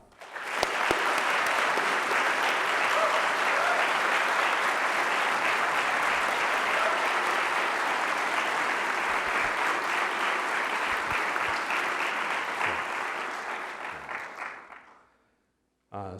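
An audience at a design lecture breaks into sustained, loud applause welcoming Kenya Hara, the clapping steady for about fourteen seconds before fading out.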